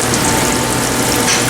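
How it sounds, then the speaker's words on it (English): Old fryer oil pouring out through an open drain valve on a fryer machine, a steady loud gushing, sizzling flow that holds constant throughout. "open up the drain valve, allowing all the old oil to flow into the machine"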